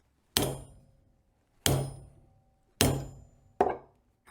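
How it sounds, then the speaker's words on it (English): Four sharp metallic hammer strikes on copper, loud and close, each ringing briefly before fading, spaced about a second apart. "hammer it down"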